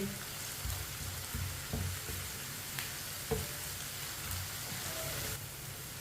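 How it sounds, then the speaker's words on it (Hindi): Garlic frying in a pan while cooking white chana (chickpea) curry, a soft continuous sizzle with occasional small pops and stirring clicks, close and fairly quiet, with no talking. "लहसुन को भी 2 मिनट के लिए पका लेंगे।"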